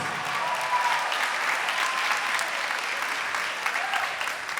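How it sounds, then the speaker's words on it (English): A large crowd applauds at a college scholarship announcement, a dense, steady roar of clapping, with faint voices mixed in beneath it. "Big round of applause"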